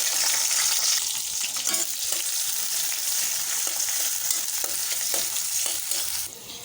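Onion and chili fry in hot oil in a wok on the stove, a loud, continuous sizzle with occasional stirring scrapes and no talking.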